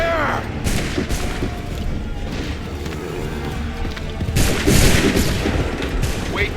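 Musket volleys crack out in Assassin's Creed III at the Lexington and Concord battle, several loud bursts of massed gunfire over a noisy battlefield backdrop, the heaviest volley coming near the end.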